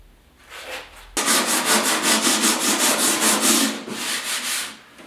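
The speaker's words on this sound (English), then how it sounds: "Okay, it's time to sand this now." A fiberglass Porsche 911 decklid is sanded by hand with 40-grit paper, a loud, close, rhythmic rasping of repeated back-and-forth strokes that starts abruptly after a quiet second and runs without pause.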